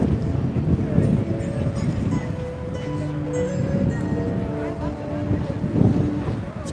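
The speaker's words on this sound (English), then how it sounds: "It's pretty windy all day today." Strong wind blowing outdoors in Las Vegas makes a continuous low, rumbling roar that buffets the microphone, with a faint steady hum underneath.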